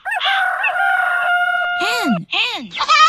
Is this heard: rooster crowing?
yes